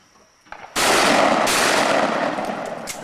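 A sudden loud blast, likely a gunshot fired at a sign, is followed by a sustained roar of noise, with a second sharp burst partway through.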